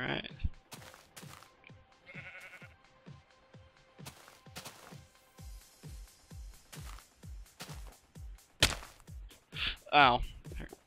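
Sheep bleating in Minecraft survival gameplay, heard as a few short bursts near the end, mixed with repeated sharp game hits and thumps and someone talking throughout.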